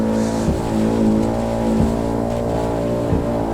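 Racing car in Assetto Corsa at high speed, holding a steady loud engine drone with rich harmonics and a few brief dips, near and continuous without speech.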